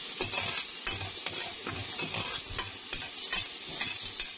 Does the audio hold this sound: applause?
no